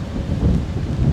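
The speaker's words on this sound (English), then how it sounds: "I'm sorry about the rain" Steady autumn rain hissing and pattering outdoors on a driveway in the Champagne region of France, a dense continuous wash with a low rumbling undertone.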